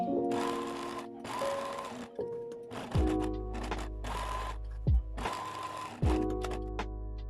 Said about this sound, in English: I will sew a basting stitch in the front of the skirt by changing the settings of my machine into a zero tension and the longest stitch